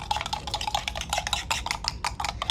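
A spoon stirs instant coffee with a little water in a cup, rapid bright metallic clinks and scrapes repeating close up.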